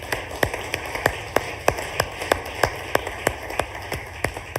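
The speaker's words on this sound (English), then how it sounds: "let's just give a round of applause for this feature to everyone who worked on that" A sparse round of applause at the 2019 CIQ Summit comes from a small conference audience, a few pairs of hands clapping in a steady, evenly spaced patter, with no talk over it.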